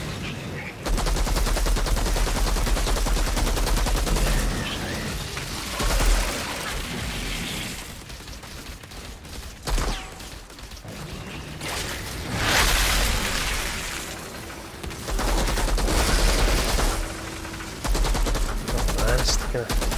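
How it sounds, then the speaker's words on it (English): A minigun in Outriders roars in repeated heavy sustained bursts, punctuated by pops and booms, loud and close across a chaotic firefight with voices underneath. "Right, minigun again."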